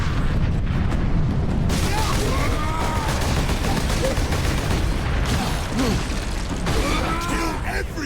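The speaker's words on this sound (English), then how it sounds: "Keep firing! Keep firing!" Warhammer 40k Space Marine gunfire rattles on continuously, dense bursts of shots and booms over a steady battle din, with voices shouting through the fighting.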